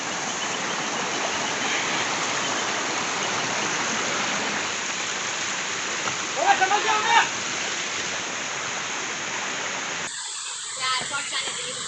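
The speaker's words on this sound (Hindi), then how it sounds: "वाटरफॉल के बहुत ही करीब आते हुए हम लोग भैया को देख सकते हैं" Pahina waterfall near Nashik sends out a dense, steady roar of rushing water from close by. A short burst of voices breaks in midway, and the roar cuts off abruptly near the end.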